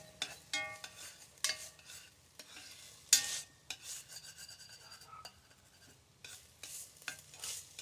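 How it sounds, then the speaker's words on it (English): Onions, green peppers and garlic sauté in a cast iron pan for chili, a soft, fairly quiet sizzle broken by intermittent scraping strokes of a utensil stirring the pan, with no voices. "I've got my onions, green peppers, and garlic sauteing in here"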